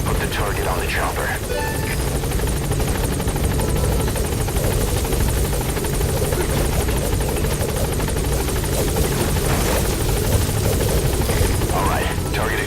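A helicopter hovers at a landing zone during an extraction in Metal Gear Solid V, its rotor a steady, loud, droning thrum throughout while voices speak over it.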